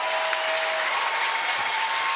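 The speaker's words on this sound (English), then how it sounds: "Coaches rise to their feet. Applause from the 2 World Cup winners alongside me." Applause at a women's rugby final as coaches rise for a captain, a steady crowd clapping heard at moderate distance, with a thin sustained tone running underneath throughout.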